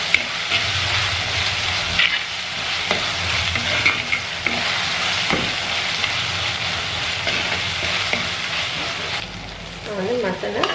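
Ginger garlic paste being stirred into mashed tomatoes in a pan for mutton chops: continuous loud sizzling with steady scraping and stirring strokes, close up, with a brief faint voice near the end.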